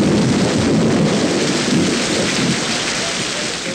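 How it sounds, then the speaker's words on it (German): Heavy rain pours down in a dense, hissing wash while thunder rumbles through it, loud and continuous, with no voices. "es regnet, die Erde wird nass."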